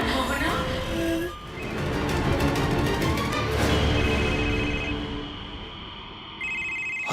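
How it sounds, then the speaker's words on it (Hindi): A telephone rings in a busy household scene, its tone sounding through music and background talk, with a brief electronic trill near the end. "अंश का फोन है।"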